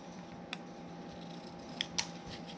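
Scissors trimming chalkboard craft material, three faint, sharp snips spaced over a couple of seconds against a quiet room background, no speech.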